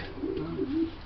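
A de Klag pigeon coos in a few low, soft, rolling phrases, close by and fairly quiet, with no talk over it.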